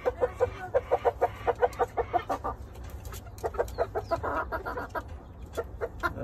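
A rooster clucks in a rapid, steady series of short, sharp calls, close and fairly loud, with a low rumbling background throughout.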